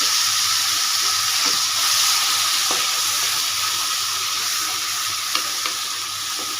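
Spice paste fries in a hot pan for a small-onion vegetable curry, giving a loud, steady sizzle close up, with faint scrapes and taps from stirring.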